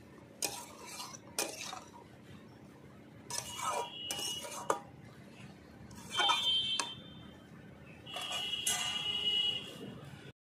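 A metal spoon scrapes and clinks against a pan while spices, bean seeds and moringa drumsticks are stir-fried, coming in irregular bursts of clatter with quiet gaps between and a faint background hum.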